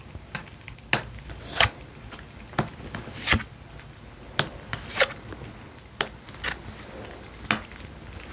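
Tarot cards being shuffled and handled in a quiet room, a string of soft, crisp riffling bursts and taps at irregular intervals, close and fairly faint, with no voices.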